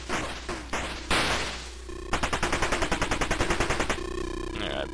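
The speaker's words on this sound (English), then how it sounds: "Now I'm using my double shot, and I'm picking up some nice points for beating these guys with it." Double shot firing in the 1983 Jaleco/Taito arcade game Exerion, heard as rapid, evenly spaced electronic bursts that come in short runs and then a long steady stream, loud and alone.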